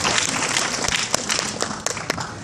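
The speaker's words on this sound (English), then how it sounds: "now give a round of applause for yourself again" A small audience claps after a talk, a short burst of scattered applause and hand claps carrying through the whole moment, without speech over it.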